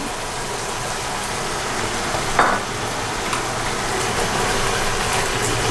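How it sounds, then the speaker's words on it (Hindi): Yogurt goes into mutton liver frying in ghee. A steady, close hiss of sizzling fat runs throughout, with one brief wet splat partway through before the frying noise settles back to an even crackle. "अब मैं इसमें दही ऐड करती हूँ"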